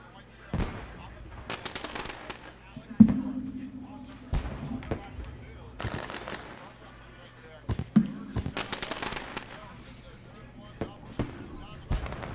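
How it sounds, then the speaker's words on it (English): Fireworks burst at Fairbury Speedway during a dirt-track race night, a series of irregular sharp bangs and thuds, some distant and some crisp, with faint crackling and reverberation between blasts. "Fireworks going off here at Fairbury Speedway."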